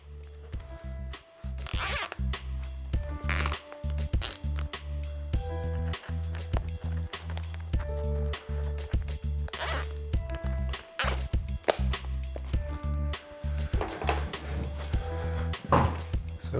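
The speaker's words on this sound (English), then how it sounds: "So I'm just going to zip tie these together." Zip ties ratchet closed around a moss pole, a busy run of short rasping zips and clicks repeating close up throughout, with rustling handling noise and no talking.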